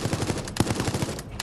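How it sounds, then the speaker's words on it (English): Rapid machine gun bursts in the Resident Evil Resistance game, a dense run of loud close shots with a short pause near the end before another blast. "Use the machine gun skill card to defeat the survivor."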